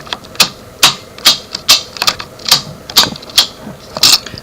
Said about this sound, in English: Watch the steering wheel lock, pop out.